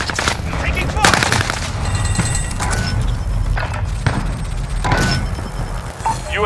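Call of Duty Modern Warfare gunfire, continuous automatic shooting layered with sharp individual shots and a distant thudding battle bed, with game radio voice lines heard over it.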